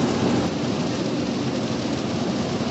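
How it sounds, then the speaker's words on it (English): Heavy rain pouring down outdoors, a dense, even, loud hiss of falling water that holds constant throughout with no voices. "It's pouring the rain all around there"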